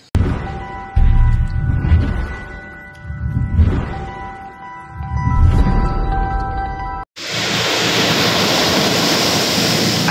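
Big ocean waves crash on a beach shoreline where boats come ashore, with rolling surges for about seven seconds before a steady, loud roar of surf takes over.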